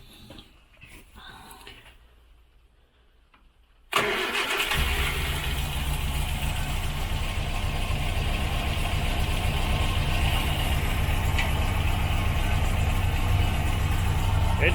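A 1968 Morris Minor 1000 cranks and catches, then settles into a loud, steady idle close by that holds unbroken for the remaining ten seconds.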